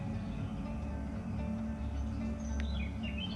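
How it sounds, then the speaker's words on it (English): Forest birds at dawn give a few thin, faint chirps over a steady low ambient hum, with one brief brighter call near the end; the birds sound distant and sparse. "Waking with the birds"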